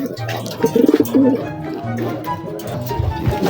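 A racing pigeon gives soft, repeated cooing calls close by, a short rolling coo followed by further low coos amid light background bustle.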